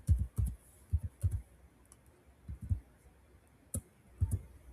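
Keystrokes on a computer keyboard while a local web address is entered, sounding as a few short clustered clicks in bursts with pauses between, close and fairly quiet, no talking.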